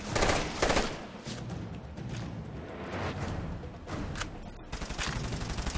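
Rapid automatic gunfire in the Army of Two: The Devil's Cartel video game, a dense continuous fusillade of overlapping shots and impacts throughout, with no talk.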